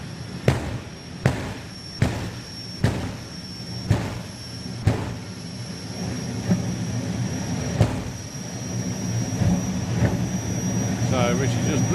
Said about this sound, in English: it does get rather violent up here when Martin Hill goes to the second stage of the afterburner blip